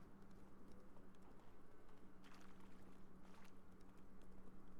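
Horse hooves in a video game, a quick rhythmic clip-clop of hoofbeats running at a steady pace over a low, constant hum, fairly faint and with no talking.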